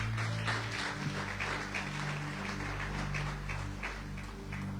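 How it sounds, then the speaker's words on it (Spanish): A church congregation claps together during a Spanish-language sermon, steady dense applause sustained throughout over a low hum, with no clear speech on top. "Dale palmas al que vive."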